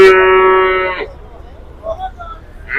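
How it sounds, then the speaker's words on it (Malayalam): A bull at a cattle market lets out one long, loud, close moo lasting about a second, followed by quieter market background with faint voices and other livestock sounds. "അടിപൊളി കാള."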